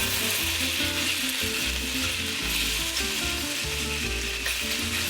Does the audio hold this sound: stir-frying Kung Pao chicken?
yes